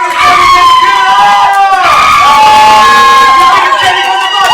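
A live game show audience cheers and shouts loudly and continuously, a dense wall of crowd noise with whoops rising and falling throughout.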